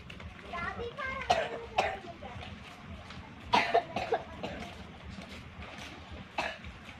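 Several separate coughs come at irregular intervals, loud and close, mixed in with children's voices and people talking nearby.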